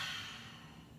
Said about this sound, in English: Big exhale out through your mouth.